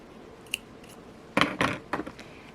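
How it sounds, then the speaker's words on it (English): Scissors snip thread while making handmade jewelry: a light click, then three or four crisp close cuts in quick succession, heard alone in a quiet room. "And now I will take the scissors, cut"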